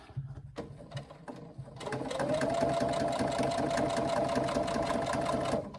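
A sewing machine stitches a tote bag, starting with a few separate clicks and then running in a steady, fast, even mechanical whir that lasts several seconds up close.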